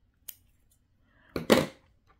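Scissors trim lace close up: a faint single click, then a brief louder snip with a short rasp, in an otherwise quiet room.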